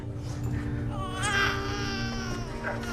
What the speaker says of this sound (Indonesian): Lalu tiba-tiba terdengarlah suara tangisan bayi